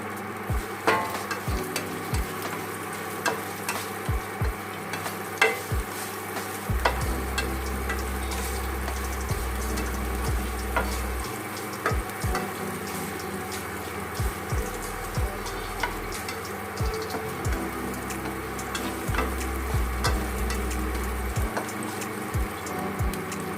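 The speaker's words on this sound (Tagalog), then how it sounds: "At ilalagay na po natin ang ginger dahil mainit na po ang mantika" Ginger frying in hot oil in a pan, a continuous close sizzle with frequent sharp clicks and taps of a utensil against the pan and a steady low hum underneath, no voices.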